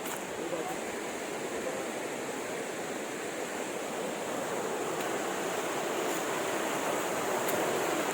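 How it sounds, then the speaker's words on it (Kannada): The fast-flowing Kali river rushes over rocks, a steady, dense roar of water heard from close by, continuous throughout at moderate level with no voices over it. "ಅಲ್ಲಿ ನೋಡಿ ನೀರು ಮಾತ್ರ ಜೋರು ಐತೆ ಭಾಳ ಸ್ಪೀಡ್ ಐತೆ"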